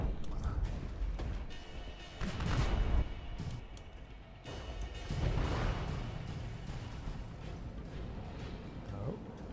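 Cannon shots land near a ship in a naval video game, with heavy booms and crashing impacts rising and fading over a steady rumble of background sound.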